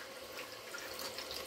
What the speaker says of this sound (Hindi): थोड़ा सा इसमें कटोरी में पानी डाल देंगे